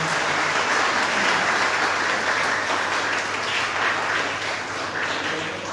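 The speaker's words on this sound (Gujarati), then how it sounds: "આપણે એમને ફરી એકવાર જોરદાર તાળીઓથી વધાવીએ" A crowd applauds steadily at a book talk, dense clapping holding strong throughout and easing slightly near the end.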